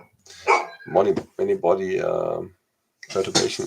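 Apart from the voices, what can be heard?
dog barking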